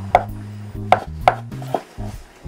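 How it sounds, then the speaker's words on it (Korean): Knife julienning carrot on a cutting board for japchae: four close, crisp taps at an even pace, no voices. "자, 채 썰어줍니다."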